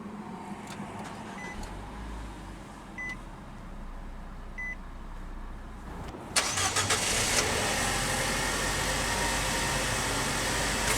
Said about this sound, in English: let's go ahead and start the engine. And along with intelligent key, it also has push-button ignition.